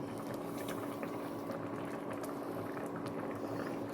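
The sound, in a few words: pear jam boiling in pot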